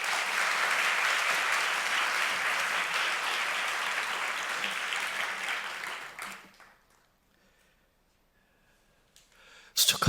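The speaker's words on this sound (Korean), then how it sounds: "목사님 나올 때 우리 환영의 박수를" Chapel congregation applauding to welcome their pastor, a dense, steady wave of clapping that holds for about six seconds, then cuts to near silence before a brief burst at the very end.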